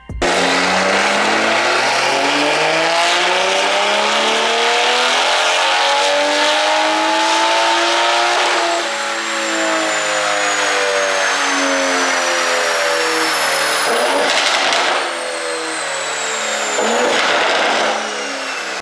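A tuned Toyota Supra flashed with a BM3 off-the-shelf map on E50 fuel screams on a dyno, its engine climbing loudly and continuously through the revs, dipping briefly, then pulling hard again.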